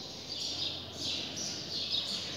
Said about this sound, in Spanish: rodeada de este magnífico templo y de estos cantos de pájaros.